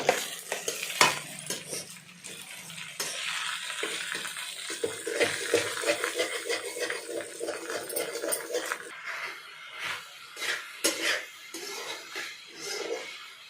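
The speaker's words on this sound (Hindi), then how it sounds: "चलो चम्मच चलाओ" A spoon stirs vegetable sabji in a pan, with uneven scraping and shuffling over a light frying hiss and irregular clinks. A voice talks over it at times.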